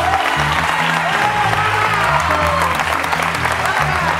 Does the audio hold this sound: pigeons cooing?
no